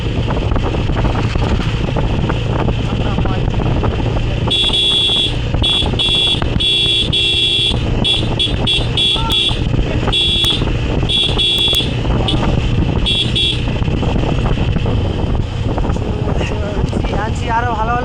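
A 160cc 4V motorcycle cruises along a smooth, bump-free road in cold weather, the engine droning steadily under heavy wind buffeting on the microphone, with a high tone wavering throughout.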